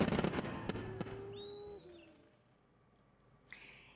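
Fireworks during year-end celebrations crackle and pop in a quick burst of sharp bangs, followed by a whistling rocket and a faint distant blast as the sound fades out.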